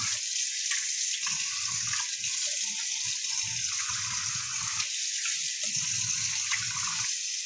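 A Cornish hen is rinsed under a running kitchen tap: a constant hiss of flowing water with irregular lower splashing bursts as the bird is handled beneath the stream.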